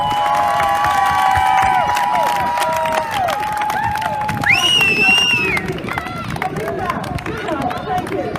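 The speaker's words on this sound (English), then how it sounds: "join me in a massive round of applause" A large crowd cheers and applauds for a cause at a gathering, with whoops, shouts and a high whistle rising over steady clapping and loud babble.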